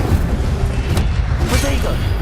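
Casting the Incendio fire spell in Hogwarts Legacy sets off heavy low booming rumbles with a couple of sharp bright bursts, loud and close over dense game effects.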